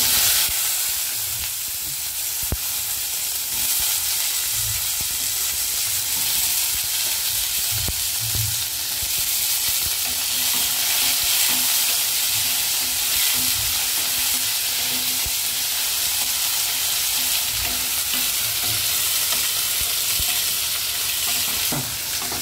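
Brinjal pieces and green chillies fry in oil in a pan, giving a loud, continuous close sizzle with occasional stirring scrapes throughout.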